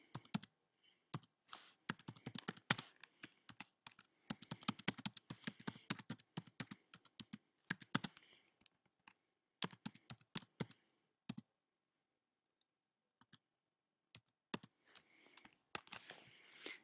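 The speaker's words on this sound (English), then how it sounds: "you can just type into the box" Typing on a computer keyboard: bursts of quick, light key clicks in uneven runs with short pauses between, close and fairly quiet, with no voices.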